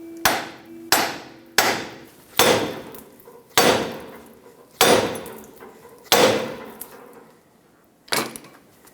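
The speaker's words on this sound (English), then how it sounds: "take a hammer, hit the knuckle right here" A hammer strikes the steering knuckle of a 1996-2002 Toyota 4Runner to break the tie rod free, seven sharp metallic blows in an uneven rhythm, each ringing briefly, close and loud with no talk.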